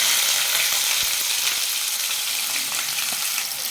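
Large-cut onions sizzle in hot oil, a loud, dense, continuous frying hiss close up with faint stirring ticks throughout.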